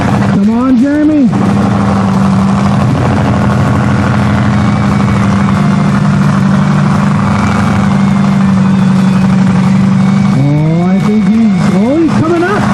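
Mud bog truck revving hard as its tires spin and dig into deep mud, a loud sustained engine roar with rising and falling pitch sweeps at start and end, crowd chatter underneath.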